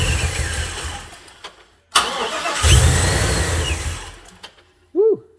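A supercharged LS V8 in a work van is cranked for its first start. The starter whirs, the engine catches with a loud roar that settles into a rough idle, then cuts out, followed by a brief chirp at the end.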